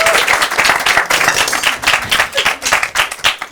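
Audience applause for a performer at a Paris comedy show, a short burst of close, distinct clapping that rises and falls in uneven pulses.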